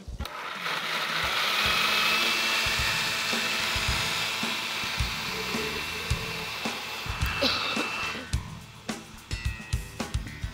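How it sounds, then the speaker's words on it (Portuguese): Kitchen blender whirring as it blends milk for a corn cream, a loud steady motor drone that slows and gives way to clicks and knocks near the end. "E o leite vem aqui para o liquidificador. Tudo. Bato."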